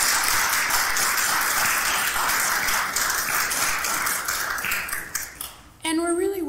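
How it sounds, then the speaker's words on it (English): A crowd applauds steadily for several seconds, a dense wash of clapping that fades out, then a voice speaks briefly. "So please give yourself a big round of applause."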